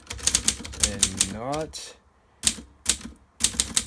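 A typewriter being typed on in a repair setting, sharp rapid key strikes in short bursts close up, with someone briefly speaking between them.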